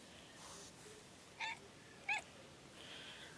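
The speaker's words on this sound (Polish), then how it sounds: "A ta ciągle miauczy." A female cat gives two short meows, a bit under a second apart. They are fairly faint and close, over a steady background hiss, and no one speaks.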